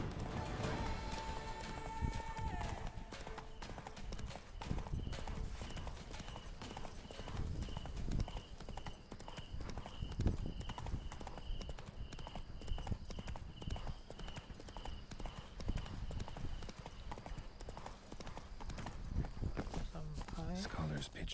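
A horse trots through a camp area in The Witcher 3: Wild Hunt next-gen edition, its hooves clip-clopping in a steady rhythm under game ambience and voices talking.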